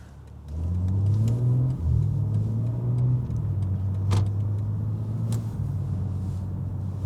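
A BMW M car's engine drones steadily while driving, a loud, close, continuous mid-pitched hum with a brief dip and a couple of momentary surges along the way, no talking over it.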